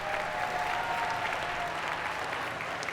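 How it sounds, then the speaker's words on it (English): Applause for P-TECH scholars at a dual enrollment recognition ceremony, an even, sustained crowd clapping that holds steady throughout, with a faint tonal hum underneath. "a round of applause for our P-TECH scholars"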